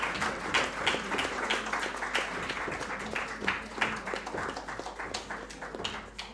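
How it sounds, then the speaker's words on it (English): An audience at an academic lecture on quantum physics and Buddhist philosophy claps for the director, a moderate, fairly dense round of applause with distinct individual claps, steady and then tapering slightly. "please give a huge round of applause to our director"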